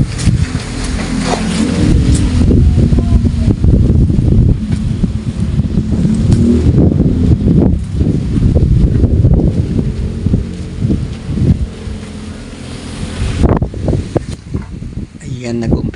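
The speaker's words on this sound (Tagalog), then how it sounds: "Ayan, nag-umpisa na po umihip ang hangin. Minsan malakas, minsan mahina." Strong, gusty wind ahead of an approaching typhoon near Metro Manila buffets the microphone in loud rushing surges that rise and fall, with rustling and roaring bursts and a calmer stretch near the end.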